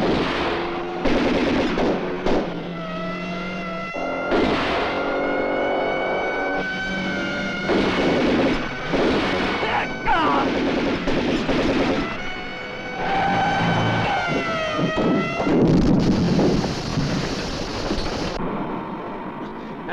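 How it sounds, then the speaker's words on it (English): Gunfire in a 1974 crime thriller film, rapid bursts of shots and machine-gun fire mixed with a swelling music score, with shouting voices over the shooting throughout. "No, Marseilles, don't shoot!"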